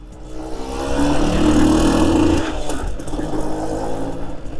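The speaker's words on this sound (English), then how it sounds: "I love these old twin two strokes. Classic two stroke sound off them." A 1995 Suzuki K125 two-stroke motorcycle engine revs up, holding a strong raised pitch for about a second before dropping back to a rough, buzzy idle, close and loud throughout.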